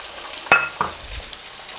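Beaten egg poured into hot coconut oil in a pan gives two quick, faint sizzling bursts a fraction of a second apart, then settles into a low, quiet hiss with no voices.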